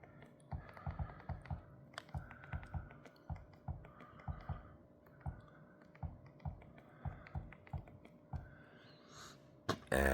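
A search being typed on a keyboard for a streaming box menu, close irregular clicks and taps in quick bursts with short pauses, ending in a louder clatter, no speech.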